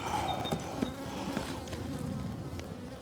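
Honeybees buzz loudly and continuously around a beehive as a hive box is pulled off, a dense droning swarm close by with a few sharp knocks of the box.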